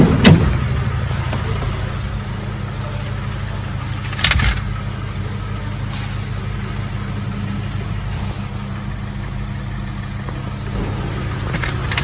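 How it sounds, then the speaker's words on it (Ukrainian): A tow truck drives past on the road in the Netherlands, a steady rumbling engine with a brief louder swell midway, heard from close beside the roadway. "Зараз бачите, їде евакуатор"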